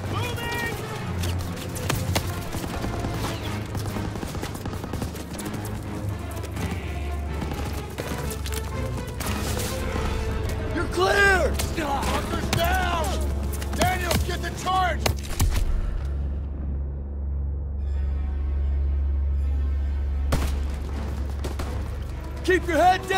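Continuous gunfire and explosions from the World War II shooter Call of Duty WW2, dense rattling shots and booms over a low rumble, with shouted voices mixed in.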